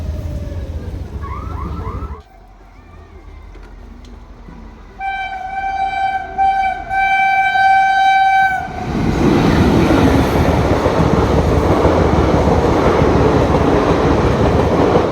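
At a railway level crossing, a train approaches with a long, loud horn blast, then roars past close by with rumbling wheels and a heavy, sustained clatter.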